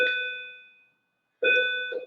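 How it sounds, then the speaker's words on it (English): A bell strikes twice, each a bright ringing ding with clear sustained overtones; the first rings out and fades to silence before a second strike and a quick third tap follow, alone and fairly close. "Bell."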